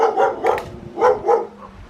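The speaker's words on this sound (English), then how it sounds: "Those are scary dogs" Dogs bark nearby on a walking track, four loud, sharp barks in two quick pairs, with a brief whine trailing off at the end.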